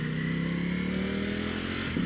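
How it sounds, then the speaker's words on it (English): A Ducati Panigale V4 Speciale engine drones while riding in race mode, a loud close buzzing hum holding steady then slightly rising over about two seconds, heard alone without talk. "Oh, it's Ducati V4."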